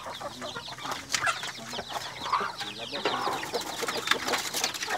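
Native chickens and chicks cluck and chirp steadily in a backyard farm pen, a busy mix of overlapping calls at close range with no clear voices.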